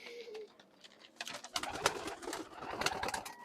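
An old-bloodline Khulna pigeon in Bangladesh gives soft, close coos, followed by bursts of rustling and fluttering as the bird moves.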